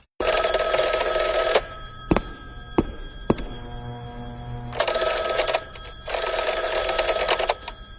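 A loud old-style red telephone bell rings at 1 a.m. in long bursts, separated by pauses with a few thumps and clicks between rings.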